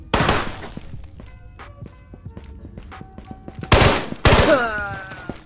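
Gunfire in the Ghosts of Tabor video game, with scattered thuds and footsteps building to two loud, close gunshot bursts near the end, each trailing a ringing decay.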